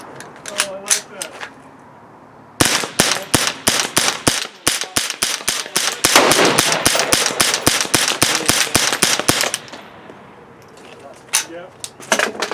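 A rifle fitted with a CMMG .22 LR conversion kit fires a long run of sharp, close, loud shots at a fast, steady rhythm. A few scattered shots come before and after the main string, with brief gaps between them.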